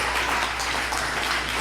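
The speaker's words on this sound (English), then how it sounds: "Put your hands together for those" An audience at a comedy show at The Ritz in Detroit applauds, a dense wash of clapping that stays steady throughout the short moment.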